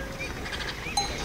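A village cattle herd gathers in front of houses as cowbells clink and ring in scattered, uneven knocks, one brighter clang standing out, over a low outdoor rumble, no talking.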